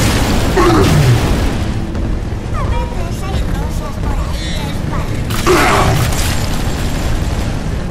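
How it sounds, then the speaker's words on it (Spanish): Two heavy booming blasts from a weapon in the video game Bioshock 2, one early and one later, with whirring mechanical and clanking sounds in between. "Provoca una explosión en un instante."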